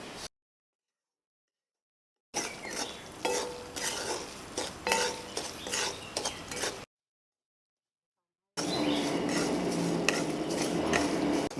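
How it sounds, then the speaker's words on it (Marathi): Fine semolina is roasted dry in a pan with a spoon scraping and stirring it in a soft, rasping rhythm. The sound is broken by two stretches of silence, and a denser, steadier stretch comes at the end. "आता आपण हा रवा भाजून घेऊया"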